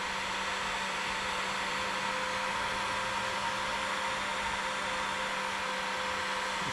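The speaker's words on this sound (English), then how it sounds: "heat gun, and I've got this set for about 450 degrees. And we'll just heat shrink these on." A heat gun set to about 450 degrees shrinks heat-shrink tubing over tail light wiring, giving a steady, close airy roar with a faint motor whine that runs unbroken and alone throughout.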